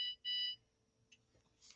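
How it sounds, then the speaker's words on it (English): A household machine sounds two short, loud electronic alert beeps in quick succession, followed by faint clicks and a softer high tone in a quiet room. "My machine is beeping at me."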